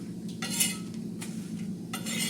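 Dry red chillies roast in a pan for a flaxseed chutney while a metal spoon stirs them, making scraping and clinking strokes over a faint sizzle, with no talking.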